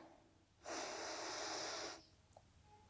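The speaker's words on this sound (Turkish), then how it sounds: "Derin bir nefes alıyoruz." A deep, steady inhalation lasting over a second during a Kundalini yoga Nabhi Kriya session, breathed close to the microphone against a quiet room with no talking.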